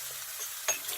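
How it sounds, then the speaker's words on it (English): Pork fillet medallions sizzle faintly in a pan while being stirred, a soft steady hiss with one brief louder scrape of the utensil. "I'm only just going to give them one more little stir"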